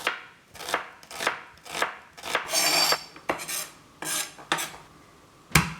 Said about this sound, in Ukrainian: цибулю нарізаю відносно дрібно